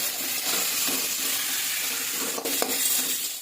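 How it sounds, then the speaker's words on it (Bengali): Chopped onions fry in oil in a pan for a fish curry, a steady close sizzle with a few soft stirring scrapes near the end and no talking. "একটু হালকা করে ভেজে নেব।"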